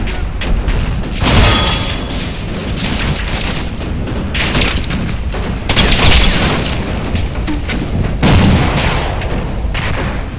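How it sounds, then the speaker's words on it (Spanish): Artillery bombardment in the war game Combat Mission Black Sea, heavy booms and crashing blasts rolling continuously with louder impacts every couple of seconds, dense and close. "aquí me están bombardeando que da gusto"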